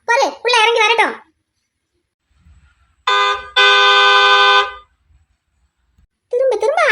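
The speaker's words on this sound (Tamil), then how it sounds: "திரும்ப திரும்ப ஹார்ன் அடிச்சுக்கிட்டே இருக்காரு" A car horn honks repeatedly outside, in loud sustained blasts separated by pauses, alternating with a voice speaking.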